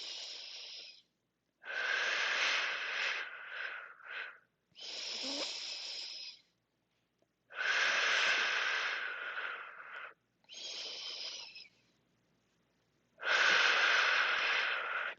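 Breathing during a movement exercise class: about six long, airy, hissing breaths, each lasting a couple of seconds, with near-silent gaps between them. Heard close and alone.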